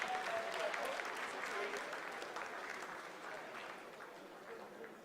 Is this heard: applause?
yes